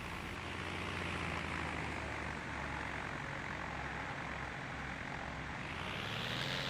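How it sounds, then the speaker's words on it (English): A propeller tow plane takes off in the Condor 2 glider simulator game with a steady, loud engine drone that holds evenly and swells slightly toward the end, with no voices over it. "I've noticed the tow plane is rocking back and forth as we're taking off"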